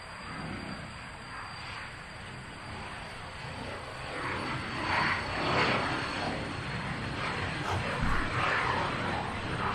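A small plane taking off at Nashville International Airport, a distant, steady engine roar that swells slightly midway, heard from outdoors over a background of buzzing insects.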